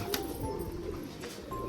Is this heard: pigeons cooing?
yes